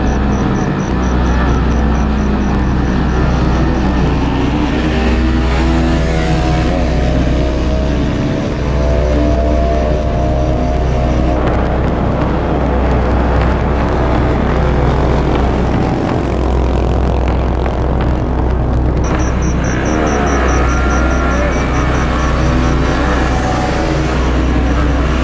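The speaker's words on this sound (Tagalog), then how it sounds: "karerahan ng mga motorsiklo." Motorcycles race at a night drag race on Macapagal Avenue, with loud, sustained engine roar and repeated rising whines as they accelerate through gears, close and steady throughout.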